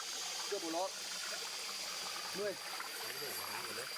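Cold mountain stream water runs clear down from the rocky hillside, giving a steady, continuous rushing wash close by, with a voice talking over it.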